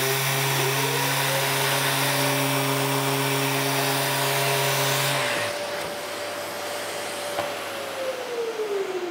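A power sander whines loudly with steady tones while sanding a wooden workbench, then winds down after a few seconds, leaving a quieter lingering hum and scraping.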